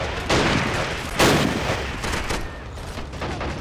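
Gunfire and artillery shots crackle through a game battle at Pork Chop Hill, with dense overlapping reports and two heavier booming blasts standing out near the start and just past the first second, all without speech.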